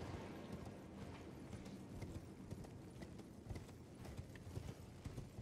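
Horse hooves during a ride in the game Elden Ring, a steady fast run of faint, evenly paced clip-clops under a dense, noisy backdrop.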